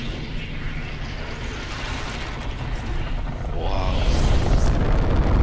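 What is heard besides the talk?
rocket launch event in video game Fortnite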